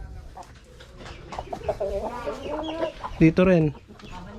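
Rhode Island chickens cluck and squawk close by inside their coop, with a few rising calls and a short louder burst near the end while a person speaks briefly.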